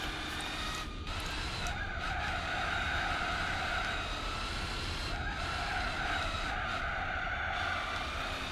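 Racing car tyres skid and squeal in Gran Turismo 4 during a race at Monte Carlo, with a Buick 62 Special among the cars. A loud, sustained screech rides over steady engine drone throughout.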